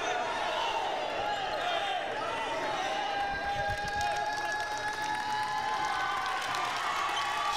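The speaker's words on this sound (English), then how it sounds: "Standing ovation from the Catawba crowd for Ray Kowalski, one of the few seniors that Rob Perrin has on his team" Crowd at a Catawba men's college basketball championship game applauding and cheering in a standing ovation, a steady dense roar of clapping and voices filling the arena throughout, with ball bounces faintly underneath.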